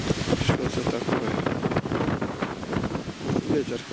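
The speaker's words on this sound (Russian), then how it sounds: "Ветер какой, опрокидывает все." Strong wind after a storm that downed four electric poles, gusting loudly and continuously across the microphone with rumbling buffets throughout, close and unbroken.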